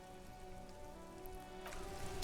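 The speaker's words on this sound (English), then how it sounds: "This rain will not let up anytime soon." Steady rain falls in the video game Disco Elysium, a dense continuous hiss of drops on surfaces with a low ambient hum beneath, growing slightly louder toward the end.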